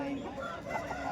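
Rooster crowing among poultry at a busy village chicken market: a short, strained crow rises over dense crowd murmur and clucking, brief and only moderately loud.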